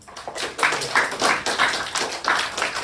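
A small group of students in a classroom clapping after a recorded Korean history lecture, a brief round of moderate applause that swells and ebbs in uneven pulses.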